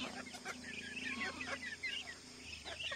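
Chickens cluck repeatedly close by in a farmyard where a goat is giving birth, with a steady low hum underneath and brief faint human sounds.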